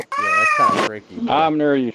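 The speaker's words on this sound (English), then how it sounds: "Oh, my cat's talking." A pet cat meows twice up close, loud and drawn out with rising and falling tones, while a person speaks briefly at the same time.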